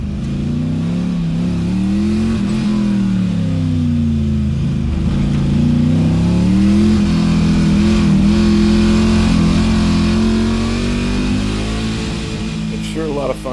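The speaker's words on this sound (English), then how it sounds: "finally making a little boost in the LS powered 914" Turbocharged LS V8 in a Porsche 914 on track, a loud close engine note rising and falling steadily through revs, with a voice speaking over it.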